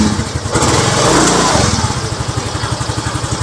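A motorcycle engine starts and settles into a steady idle during a regulator/rectifier check, its close, even putting pulses running loud and continuous with no talk.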